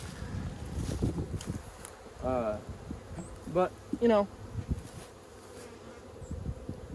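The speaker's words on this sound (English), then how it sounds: "There's still plenty of bees in there." A dense honey bee hive hums with a steady insect drone close by, while a few louder bees whine past in rising and falling buzzes. Someone speaks briefly over the buzzing.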